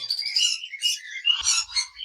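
Lovebirds at a breeding farm chirp and tweet in quick, overlapping bursts of high calls, several birds close by with no talk.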